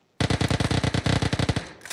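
A rapid burst of automatic gunfire, about two dozen evenly spaced loud shots in under two seconds, followed by a short sharp crack.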